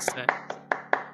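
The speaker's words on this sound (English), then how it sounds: "A round of applause for pilots out there" A single person's hand claps ring out about five times in just over a second, sharp and evenly spaced, while a voice speaks briefly over them.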